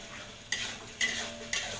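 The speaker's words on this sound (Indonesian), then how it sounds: "kita tumis" Shallots stir-fried in a pan, with three brief scraping stirs about half a second apart over a soft, steady sizzle at moderate loudness, no voices.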